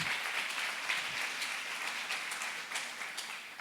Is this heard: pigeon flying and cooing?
no